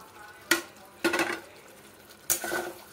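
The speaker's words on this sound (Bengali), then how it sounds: "আর এখন আমি দিয়ে দেব এই ভেজে রাখা পেঁয়াজগুলো।" Fried onions going into a simmering pointed gourd and egg curry, then stirred in, heard as three separate bursts of scraping and clattering against the pan over a soft low bubbling, without any talking.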